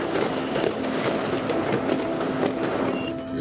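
Fireworks bursting over a Dutch town on New Year's Eve during rioting, a dense, continuous wash of crackling and distant pops with scattered sharper bangs, loud and steady throughout.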